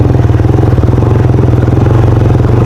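A Honda motorcycle engine chugs with a fast, even pulsing beat, loud and close while riding along a road, with no voices.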